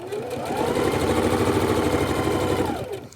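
A sewing machine stitches across quilt fabric for flying geese blocks, sewn with thread matched to the fabric colour. It gives a steady, close, rapid mechanical whirr for about three seconds before winding down.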